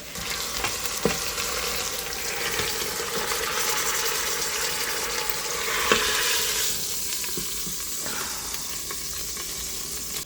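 Prime rib sears in an Instant Pot with a steady, close sizzle and occasional stirring scrapes, swelling briefly near the middle and easing slightly toward the end; no one speaks.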